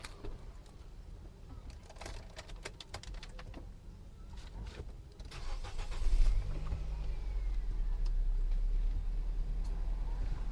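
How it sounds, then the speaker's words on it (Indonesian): A 2012 Nissan X-Trail sits quietly with a few soft clicks and light handling noises before the engine turns over and catches, then settles into a steady, low idle that carries on to the end. "ketika nyalakan mobil ini"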